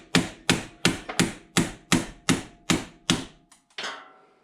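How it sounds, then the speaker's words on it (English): A large steel punch is hammered against a rifle's front sight with about nine sharp, evenly spaced metallic whacks, each ringing briefly. The blows are loud and close, followed by a small clatter at the end. "So I'm just gonna take this large steel punch and give the front sight some good whacks."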